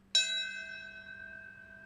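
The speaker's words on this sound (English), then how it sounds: "They rang the bell at 9:03 a.m. or Eastern time." A single bell struck once at a memorial ceremony, a clear ringing strike that sustains and slowly fades with steady overtones, heard alone.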